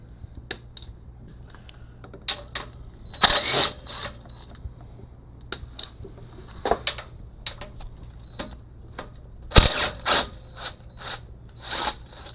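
A ratchet wrench works loose the mounting bolts of a DEF tank on a truck frame, giving sharp clicking bursts at irregular intervals, some louder and closer, against a quiet background with no talking.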